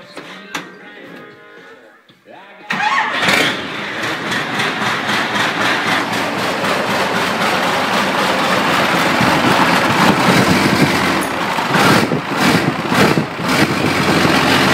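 A Cummins diesel swapped into a 1973 Ford truck, running very low on fuel, cranks and catches, then settles into a loud, close, steady rumbling idle with a few surging bursts near the end.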